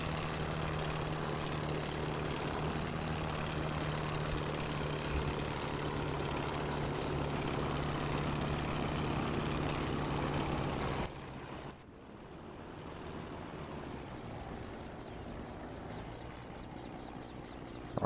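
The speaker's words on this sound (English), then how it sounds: "Our engine sounds worse for wear." Damaged aircraft engine in the combat flight game IL-2 1946, a steady rough droning hum that cuts out abruptly partway through, leaving a quieter, thinner engine sound with a faint rising whine.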